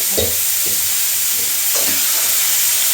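Chopped arai keerai spinach is tipped into a hot oil tempering and mixed, giving a continuous loud sizzle and hiss with a couple of dull thumps and scrapes from the stirring.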